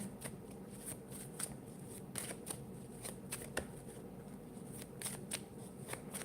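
Cards being shuffled in quick riffling bursts, crisp repeated snaps close by, with no talking.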